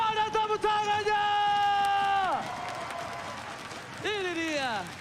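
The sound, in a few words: esports crowd applauding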